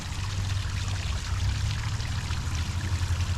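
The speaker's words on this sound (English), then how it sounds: "there's a very nice pond slash creek runs through here." Water flowing through a pond and creek in a Calgary city park, a steady, continuous rushing wash heard close and alone without any talking.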